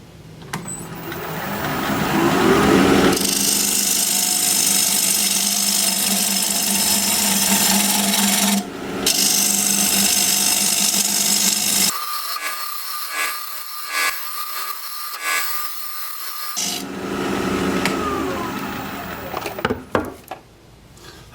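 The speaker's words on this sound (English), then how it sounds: "We're going to be turning at 1500 RPM, half-inch bowl gouge," Black walnut spinning on a wood lathe at 1500 RPM is cut with a half-inch bowl gouge, giving long loud hissing, rasping passes with brief pauses and a quieter stretch midway, close and steady.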